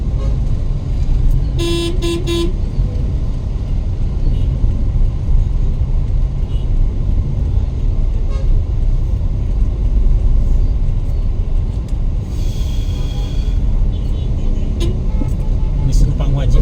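Dense road traffic at a congested intersection on the Medan–Binjai route, heard as a constant loud engine rumble with a couple of short horn toots. A voice talks over the noise throughout.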